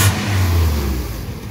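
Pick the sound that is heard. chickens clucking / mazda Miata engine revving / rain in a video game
mazda Miata engine revving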